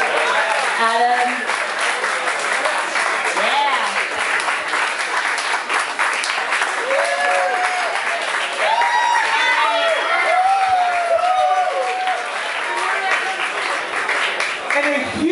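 Crowd applause and cheering at a prize giveaway for shirts, loud and sustained throughout with scattered whoops and excited voices calling out over the clapping.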